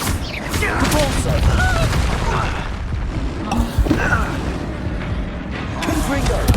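Expulso spell blasts in Hogwarts Legacy combat land as booming explosions over a constant loud rumble of battle, with voices shouting now and then amid the fighting.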